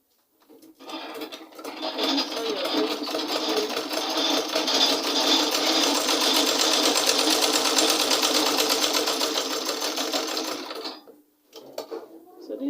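A sewing machine runs steadily for about ten seconds, stitching fabric for a pleated off-shoulder sleeve, its close, even whirr rising and holding before it stops abruptly.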